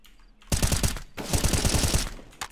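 Automatic gunfire from a video game rattles out in two loud, rapid bursts with a brief gap between them, close and dense, with no talking.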